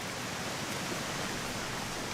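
River or creek water flowing in the jungle survival game Green Hell, a steady, even broadband rush with no breaks, moderately loud and continuous, with no talking.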